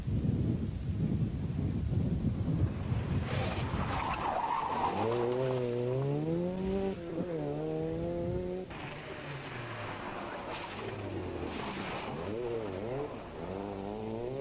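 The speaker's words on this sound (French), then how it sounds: "Un peu plus loin, on pointe la Porsche d'Émile Tollet et l'Opel Manta 400 de Gérard Schmitt" Opel Manta 400 rally car on a special stage, engine note rising and falling in sweeping revs through gear changes, with tire squeal and skidding, fairly close and loud.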